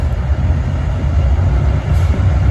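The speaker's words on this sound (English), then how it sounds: "Yeah, there's the nuclear waste train. Two wagons." A nuclear waste train with two wagons rolls past close by, a steady, loud low rumble with the metallic clatter of wheels on rails.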